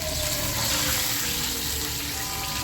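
Water from a glass pours into a pot of heated ghee while making suji halwa, a steady loud gushing and sizzling rush that runs without pause and without any talking.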